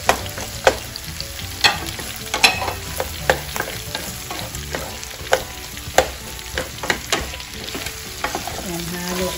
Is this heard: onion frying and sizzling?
yes